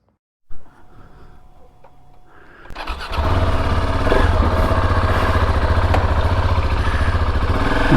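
A KTM 690 SMC R motorcycle on its first ride, faint at first, then its engine starts up and settles into a loud, steady, close running drone.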